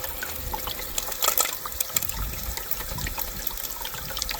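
Water from a hose runs into a cow water trough with a continuous splashing trickle and burbling, moderately close and steady, with small gurgling surges throughout.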